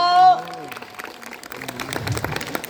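Audience applause breaks out at a Thai temple festival honoring palm-leaf scriptures in Phrae province. It follows a brief sustained tone and then rattles on as a dense, fairly close clapping crowd for the rest of the moment.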